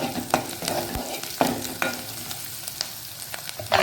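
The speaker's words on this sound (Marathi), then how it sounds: "त्याच्यामध्ये थोडीशी हळद टाकायची ते व्यवस्थित आपण परतून घेऊया" Onions with turmeric sautéed in a pan for a ridge gourd (dodka) vegetable, with steady low sizzling and several sharp scrapes and clinks of a spoon stirring against the pan, close and alone.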